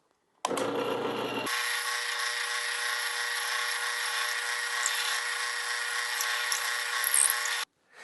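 A power drill bores a hole straight through a wooden block for a dowel jig, giving a steady high whine that runs for about seven seconds at constant pitch after a brief lower start, then cuts off abruptly.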